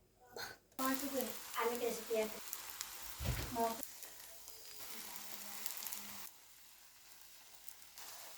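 Sizzling and frying from an onion omelette of three beaten eggs cooking in a pan, a steady crackle running through most of the clip with a loud burst near the start and some background voices.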